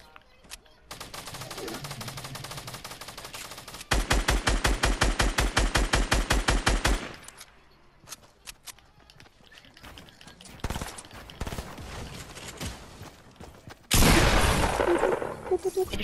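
Fortnite gunfire sounds in long rapid automatic bursts, one loud and close, along with other fainter shots and a final loud burst. A voice talks between the volleys.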